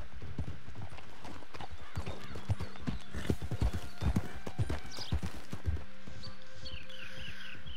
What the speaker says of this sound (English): This horse is very small.